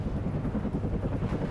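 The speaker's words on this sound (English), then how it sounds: "we do have some helicopters doing some shooting" Military helicopters in the real-time strategy game WARNO: a steady, dense low rotor drone with rapid pulsing flutter, loud and continuous throughout the short stretch.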